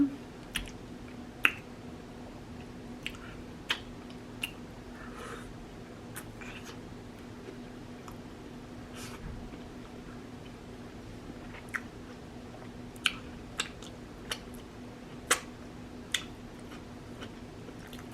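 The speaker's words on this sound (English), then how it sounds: "For people who don't like smacking or people making noises while they eat" Wet chewing and lip-smacking from someone eating a seafood boil: scattered sharp clicks and smacks, close and fairly quiet, over a steady low hum, with no talking.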